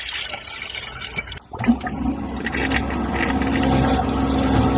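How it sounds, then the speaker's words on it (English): A vacuum toilet in the lavatory of a Cessna Citation XL business jet flushes with a loud, sudden rushing whoosh after a brief drop to quiet, then settles into a steady hiss of draining and refilling. "Okay, it's flushing."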